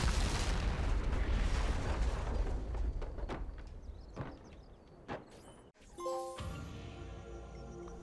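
A tank in Assassin's Creed blows up with a loud booming blast that rolls into a long fading rumble, followed by a few metallic thuds and a short chiming game cue.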